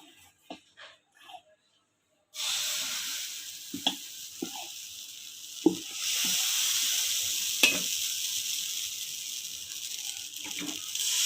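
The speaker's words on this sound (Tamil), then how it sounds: "இப்போ ஆப்பம் சுடலாம். ஆப்பம் ஊற்ற போகிறேன். லேசாக எண்ணெய் தடவி விடுங்க." Appam batter hits a lightly oiled pan and breaks into a loud, steady sizzle that holds for several seconds, with a few soft clinks and taps of a utensil over the frying hiss.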